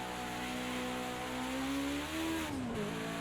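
BMW 320 Turbo Group 5 race car in Project CARS 2 at Bathurst, its engine droning loud and close, rising in pitch as it pulls through a gear, then dipping sharply at a shift before climbing again.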